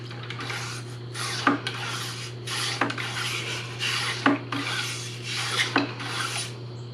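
Steady back-and-forth scrubbing inside the barrel of a Traditions Pursuit muzzleloader rifle, a raspy rubbing sound repeating in even strokes about once a second, with a constant low hum underneath.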